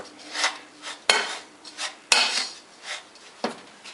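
Sugars and salt mixed in a pot for creamy caramels, with a utensil scraping and knocking against the pot in uneven strokes and two sharp clinks, close and fairly quiet, with no voices.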